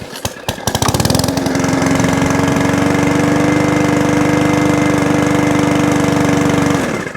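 A 2015 lawn mower running on ethanol-free petrol, pull-started with a few sputters, then a loud, steady close-up engine drone that holds for several seconds before cutting off abruptly.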